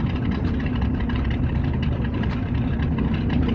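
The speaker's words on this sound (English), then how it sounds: "probably better to drive this UAZ than the tractor I drove over here" Steady, continuous rumble of a UAZ off-road vehicle engine in the S.T.A.L.K.E.R.: Clear Sky game, a dense low drone running evenly throughout with no speech over it.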